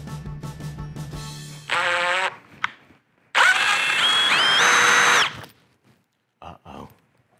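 A power drill drives a Milwaukee screw extractor into a screw, bursts of whining motor that speed up and slow, one long run in the middle, separated by gaps of quiet and a few short blips near the end.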